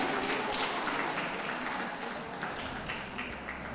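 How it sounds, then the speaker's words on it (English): Audience applause ringside at a championship dog show for the Working group placings, a dense, steady wash of many hands clapping, fairly faint and distant, slowly fading toward the end. "A round of applause for those leaving the ring, please"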